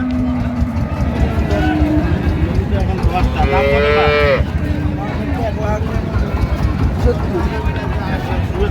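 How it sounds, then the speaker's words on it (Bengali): At the Raniganj cattle market in Dinajpur, a dairy cow with her calf gives one long, loud moo midway through, heard close over the constant hubbub of market crowd noise. "আমরা দেখছিলাম এখানে একটি গাভী বাছুর দেখছেন।"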